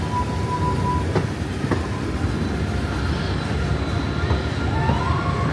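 Icon roller coaster train at Blackpool Pleasure Beach rumbles past with a steady roar and a few sharp clanks, loud and close, alongside faint tonal park sounds.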